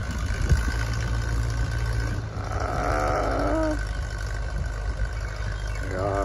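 A tractor engine idles and rumbles steadily nearby with a low, continuous drone, fitted with a new tire that digs in, while faint voices and a brief higher whine rise over it midway.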